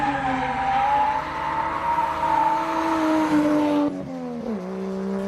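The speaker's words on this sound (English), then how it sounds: "Out on track, the 1JZ was more than enough to get big smoky drifts out of it." A Toyota Chaser with a 1JZ engine drifts on a track, its engine holding a loud, sustained high-rev wail, then dropping sharply in pitch as the throttle lifts near the end.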